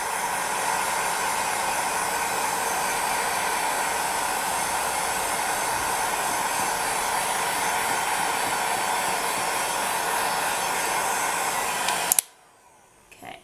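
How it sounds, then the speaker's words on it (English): Heat gun being moved over liquid polymer clay on steampunk earrings to cure it, a loud, steady blowing roar held close for about twelve seconds before cutting off abruptly, no talking. "just move your heat gun around like so"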